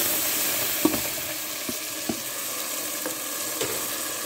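Blended tomato poured into a pot of golden fried onions for Saidi-style kishk sets off a loud, steady sizzle, with a few soft knocks of stirring.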